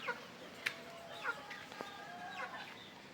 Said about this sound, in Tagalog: Yan yung sisiyo na ginya fowl guys.